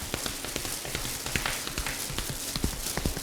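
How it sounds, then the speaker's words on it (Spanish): Radio sound effect of horse hooves clip-clopping, irregular light knocks scattered quickly over a soft hiss like rain, close and fairly faint, with no talk. "Y era el momento en que venía el caballo."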